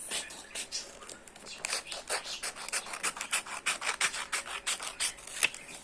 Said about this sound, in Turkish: Makasla da işte katlamadığımız yeri kesiyoruz.